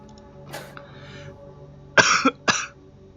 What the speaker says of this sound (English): That made me laugh and I coughed at the same time.